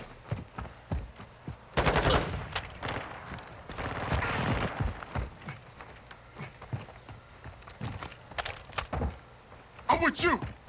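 Gunfire in Call of Duty: Modern Warfare II: uneven bursts of sharp shots and short volleys, some near and loud, some softer, scattered among other game sounds, with a voice talking in between.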